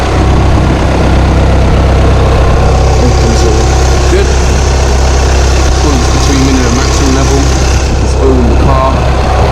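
An Audi Q3 2.0 TDI Quattro diesel engine idles with a steady low rumble throughout, while a person talks over it.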